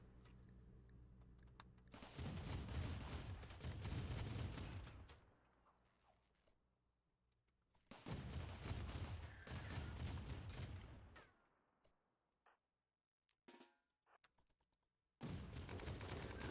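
Cannons fire in a Rimworld colony base, loud bursts of rapid repeated blasts in long volleys, separated by brief quiet gaps.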